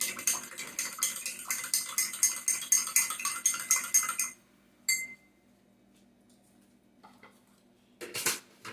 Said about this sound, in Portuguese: Vou botar no terceiro copo, eu vou mexer